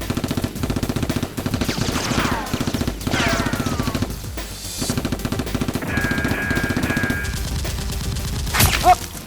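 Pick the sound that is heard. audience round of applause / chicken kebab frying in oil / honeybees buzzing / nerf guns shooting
nerf guns shooting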